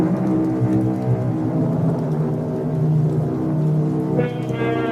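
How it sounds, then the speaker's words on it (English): Hard, steady rain sound effect in a 1970s radio mystery drama, a continuous dense wash of falling rain set on a blacktop country road, loud and unbroken with a low rumble beneath and no voices. "It's raining hard."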